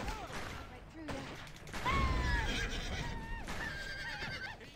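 A horse in the game Red Dead Redemption whinnies with a high, wavering call over busy background noise and clatter, loud and close, followed by another shorter neigh.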